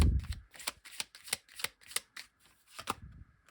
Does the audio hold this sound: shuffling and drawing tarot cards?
yes